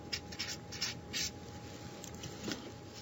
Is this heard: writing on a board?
yes